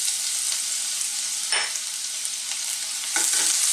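Garlic fries in a little hot oil in a kawali, a steady bright hiss up close with a couple of brief louder crackles and utensil scrapes, no talking.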